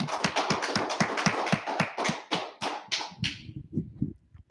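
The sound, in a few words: audience clapping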